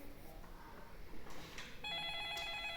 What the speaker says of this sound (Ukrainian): чуєте? Хтось дзвонить?